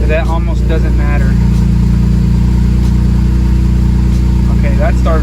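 A BMW 335i engine runs steadily after starting, a loud constant low-pitched drone that holds for the whole stretch, with brief bits of voice over it.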